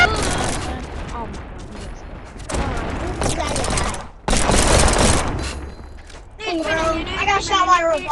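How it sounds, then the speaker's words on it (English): Revolver gunshots in the VR game Animal Company ring out in sharp bursts, separated by short gaps, while players talk and shout over the shots. "I got shot by a revolver."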